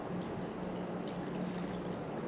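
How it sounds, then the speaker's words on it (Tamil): Water from a bowl is poured into semolina in a home kitchen while making corn halwa, producing a steady, even splashing rush that holds for a couple of seconds with no voices. "அதனால் ஒரு பவுல் தண்ணி விட்டாச்சு"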